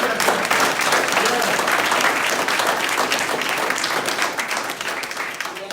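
Audience applause at a gathering for justice: a dense, sustained wash of many hands clapping at steady loudness for the full stretch, close and continuous, slowly easing toward the end, with voices faintly mixed in.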